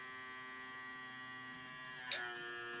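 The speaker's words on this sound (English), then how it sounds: "it's sucking the extra oxygen out of the jar between the lid and the rim of the lid" An electric vacuum pump draws air out of a sealed jar through its lid, giving a steady, tonal hum. A single sharp click near the end is followed by the hum carrying on.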